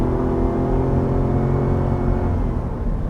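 A 2020 Ford F-250 Tremor pickup with its 7.3L V8, towing a load, pulls hard at full throttle, a loud continuous engine roar and drivetrain rumble filling the cab throughout.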